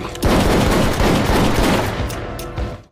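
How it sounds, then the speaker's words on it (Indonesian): Gunfire rings out in an action film scene as a pistol is fired several times, a loud, dense volley of sharp cracks and echoing booms that fades away over three seconds. "Bos pun langsung menembakkan pistol miliknya ke arah Lizard beberapa kali namun meleset."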